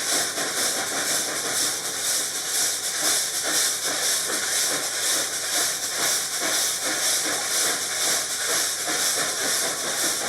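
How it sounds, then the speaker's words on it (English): Inside the cab of Reading & Northern steam locomotive 2102, a steady loud roaring hiss of steam and a working stoker engine feeding coal to the firebox fill the space with a constant churning rumble. "He's feeding coal to the fire to keep steam pressure up."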